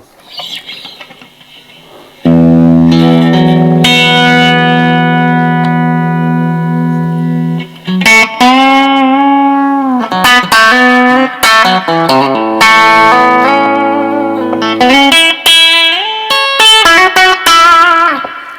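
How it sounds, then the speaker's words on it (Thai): A Telecaster electric guitar rings out through a long reverb, playing sustained chords and then quicker melodic runs whose notes trail and blur into a spacious tail, loud and close with no talk. "เดี๋ยวผมเปิดรีเวิร์บเป็นรีเวิร์บยาวนะ"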